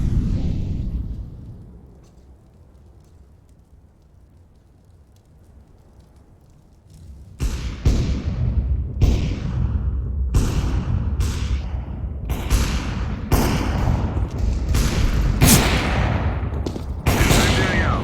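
A Counter-Strike: Global Offensive incendiary grenade lands and burns with a low roar that fades. After a quiet stretch, loud bursts of gunfire and sharp cracks keep striking close by.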